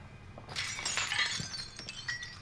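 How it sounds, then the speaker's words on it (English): Glass shattering in Call of Duty: Modern Warfare, a single crash with bright tinkling fragments that rings out for about a second and a half before fading, with no voices over it. "You guys are breaking glass, right?"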